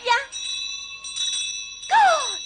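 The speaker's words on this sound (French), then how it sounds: "Oh, la cloche a sonné. On doit retourner en classe." A school bell rings in short bright bursts, clear metallic tones with sustained ringing overtones, while children's voices speak over and around it.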